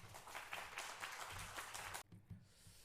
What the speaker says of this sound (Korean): 나오실 때 박수로 환영하겠습니다